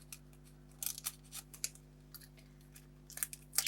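Scissors snipping paper scraps for DIY note cards, a few quick, crisp cuts close by with short gaps between them, faint and with no talking.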